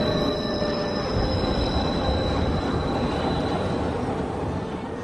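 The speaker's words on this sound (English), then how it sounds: "We got a train going down the center of our street, elevated train. The sounds we hear are screeching sounds." An elevated train rolls down the center of a city street, wheels screeching loudly and continuously over a heavy, close rail rumble.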